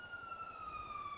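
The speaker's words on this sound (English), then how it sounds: "Please tell me there are actually sirens on right now." Police siren wailing in the NoPixel GTA roleplay video game, a steady, slowly falling tone that sounds moderately distant and fairly quiet throughout the short moment, with no voices over it.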